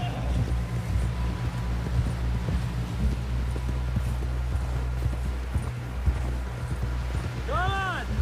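Horse hooves clip-clop steadily at a walk in a Red Dead Redemption 2 game scene, a continuous rhythmic patter under a low engine-like drone, with a brief whinny near the end.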